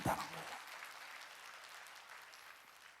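Congregation applauding during a Korean church Sunday worship service, a brief burst of clapping that starts sharply and continues steadily for about three seconds.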